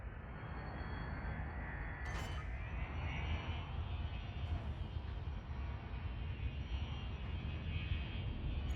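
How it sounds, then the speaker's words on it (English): Spacecraft down thruster firing in Elite: Dangerous: a loud, steady engine rumble runs throughout, with a brief sharp hissing burst near the start. "I actually use my thruster down for an instant"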